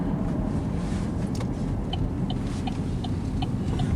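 Cabin of a 2012 Chevy Equinox on a test drive, a steady low road and engine rumble with faint intermittent ticks, no voices over it.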